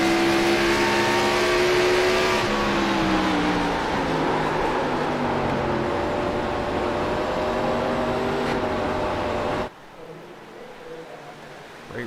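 Race car engines roar loudly on a short-track oval during a 150-lap event, holding steady harmonic drones with throttle lifts and pitch shifts before cutting off abruptly near the end.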